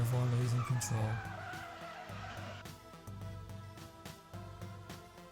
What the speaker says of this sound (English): another Mustang burnout, another one losing control